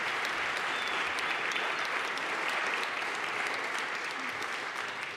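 Steady, dense applause fills an awards ceremony hall at a sustainable-housing forum in honour of the event's organiser, many hands clapping continuously at an even level throughout, with no speech over it.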